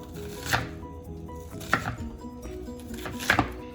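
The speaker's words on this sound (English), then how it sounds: "Cut it in little squares, the onion." Knife chopping an onion into small squares on a cutting board: three distinct clusters of sharp chops, near and clear, with quiet gaps between them and no voices.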